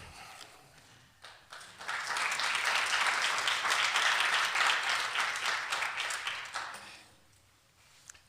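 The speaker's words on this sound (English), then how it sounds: "I'm not sure if you're clapping for Richard or for me." Audience applause at an academic conference, building from scattered claps into a full, sustained round before fading back down near the end.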